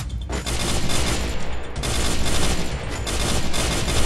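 Rapid bursts of gunfire in the mobile shooter game Free Fire, loud and close, with sustained automatic volleys broken by a couple of brief pauses and heavy booming hits underneath.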